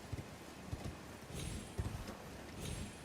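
Torrent, the spectral steed from Elden Ring, gallops along with steady thudding hoofbeats, low, close and rhythmic, sounding in uneven bursts over a constant game backdrop.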